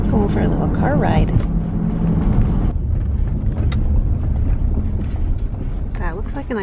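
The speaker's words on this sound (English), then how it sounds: "Going for a little car ride." A car on the move, with a steady low engine and road rumble and some wind noise running throughout, and occasional voices over it.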